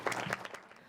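An audience at a regional tourism youth congress gives a short burst of applause, a quick, faint patter of clapping heard from a distance that fades within a second.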